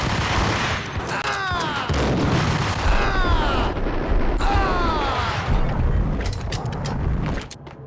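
Grenade blasts and sustained gunfire rage through a building in Max Payne, loud and continuous booms and rattling shots stacked over each other, with faint voices and whizzing sounds mixed in before an abrupt cutoff near the end.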